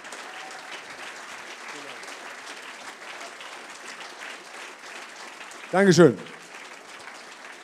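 Audience applause at a film talk in Germany greets the director, a soft, steady patter from a crowd with a short burst of speech near the end.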